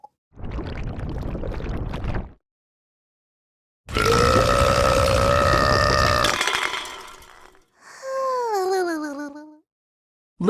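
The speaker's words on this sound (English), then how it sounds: "Little Blue let out a humongous burp." Several loud, drawn-out burps come one after another with short silences between them, the last one rising and falling in pitch like a cartoon sound effect.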